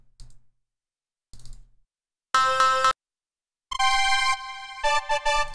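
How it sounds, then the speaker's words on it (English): Bright synth string chords from the UVI String Machines 2 plugin ring out in short separate stabs, then a longer sustained chord with rhythmic re-triggers, loud and clean against silent gaps. "That is a go-to frickin' synth sound."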